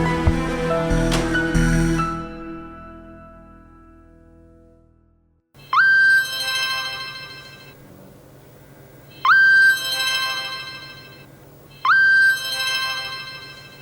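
A phone rings for an incoming call, with three bright, loud bursts of a whistle-like tone separated by short gaps, following a fading musical sting.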